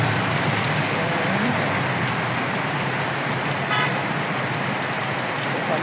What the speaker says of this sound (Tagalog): Biglang buhos ng malakas na ulan.